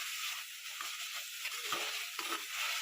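Tomatoes sautéed with salt in a pan for a potato and moong dal salna sizzle steadily and close by, a continuous bright hiss with small crackling bursts and no voices.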